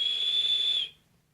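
A stainless steel Horizentech Arctic vape tank gives a steady, piercing high whistle as air is drawn through its nearly closed airflow, lasting under a second before cutting off.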